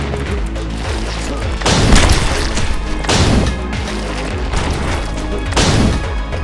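Repeated heavy blasts from a grenade launcher in a video game, several booming bursts at roughly one-second intervals over a dense, continuous wash of combat noise.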